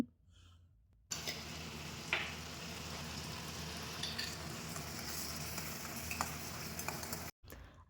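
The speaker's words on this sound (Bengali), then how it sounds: "টমেটোটা একটু বেশি সময় ধরে ভাজতে হবে" A constant loud sizzle of tomato with salt frying in mustard oil in a pan, with occasional scraping stirs, starting abruptly after a quiet moment.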